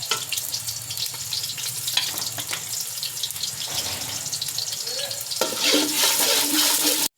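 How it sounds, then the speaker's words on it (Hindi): Chopped onion going into hot ghee for a Lahori mixed-vegetable rice biryani, giving a steady close sizzle and frying hiss that swells louder near the end, with no talking. "ते घ्यो गर्म हो चुके है ते हुण पावांगे इहदे विच प्याज"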